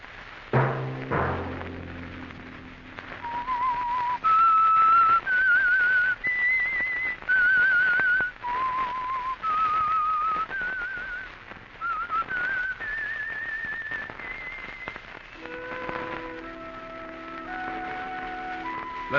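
The signature tune of The Whistler radio show is whistled solo: a clear, melodic line of sustained notes at steady volume, with a short thud at the start and a few accompanying tones near the end.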